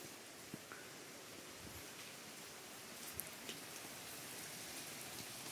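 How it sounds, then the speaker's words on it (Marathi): Steady rain falls outside a house during a power cut, a soft continuous hiss with scattered faint drips and patters, moderately quiet and without any voices. "बाहेर पडते पाऊस"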